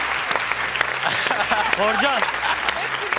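A studio audience on the Turkish game show Piramit claps in a sustained burst of applause. A host's voice and brief vocal exclamations rise over the clapping.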